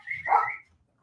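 A single short dog bark, close and fairly loud, followed by silence.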